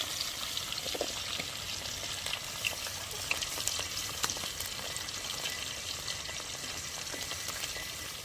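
Green chillies fry in oil in a pan for a quail curry cooked in a village, with a dense, continuous close sizzle and occasional light stirring knocks, and no talking.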